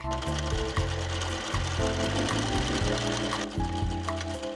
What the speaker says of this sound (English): I am going to be using a stretch stitch along this seam